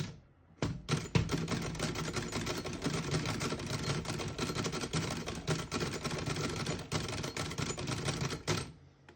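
Continuous typing on a 1935 Underwood Noiseless portable typewriter in excellent condition, a rapid run of soft, muted key strikes in an even rhythm with a brief pause near the start, close and alone.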